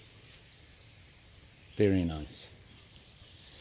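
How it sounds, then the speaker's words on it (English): Crickets chirp continuously outdoors on a pleasant evening, a faint high shimmering trill throughout, briefly interrupted midway by a short spoken remark. "Crickets."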